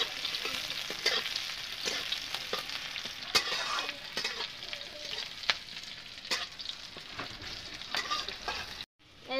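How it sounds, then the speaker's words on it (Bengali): Onion, dried red chilli and panch phoron fry in a pan with a continuous crackling sizzle, broken up by repeated scraping and clinking stirs, close up, with no talking. "এটাকে আমি নাড়াচাড়া করে আমি ভাজিয়ে নেব।"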